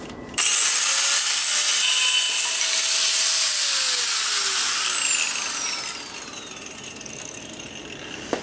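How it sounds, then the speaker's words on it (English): Close, loud angle grinder whine rising to full speed and cutting through a weld tack on a 1967 Ford F100, a sustained high scream that holds for several seconds, then spins down and fades. "I'm going to use my my grinder here and just cut that little tack down there"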